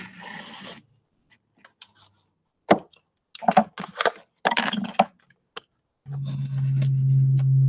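A blade saws and scrapes through corrugated cardboard in short, rough bursts of cutting that start and stop irregularly, close and fairly loud, followed by a low steady hum.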